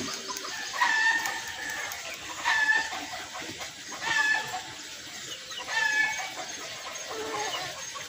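Chickens cluck in short, evenly spaced bursts about every second and a half over a steady outdoor hiss, with a rooster's crowing mixed in, moderately near.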